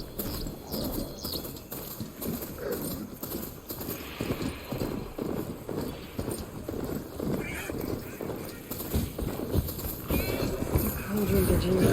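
Robotic machine mount galloping in Horizon Forbidden West, a steady clip-clop of hooves running continuously at close range under ambient game noise, growing louder toward the end.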